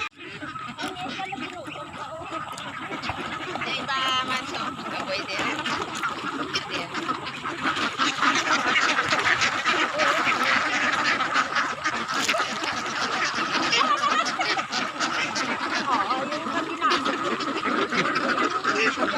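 A noisy flock of ducks quacks constantly, many birds at once and fairly close, growing busier partway through, with a voice talking now and then.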